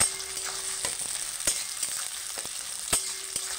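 Onions fry in hot oil in a pan with a continuous sizzle, broken by a few sharp scrapes and clinks from stirring, close by.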